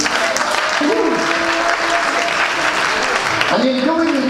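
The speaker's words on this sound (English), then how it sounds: "Clap your hands and praise Jesus." A church congregation claps their hands together in praise during a Sunday worship service, steady dense applause filling the room while a voice speaks and sings over the top.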